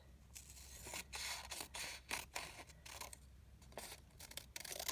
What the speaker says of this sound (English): I'm going to go ahead and cut that out.